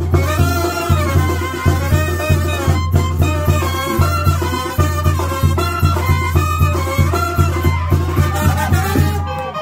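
Banda band playing at a quinceañera party, with steady loud brass and a thumping bass-drum beat that drives a regular pulse throughout, full and close.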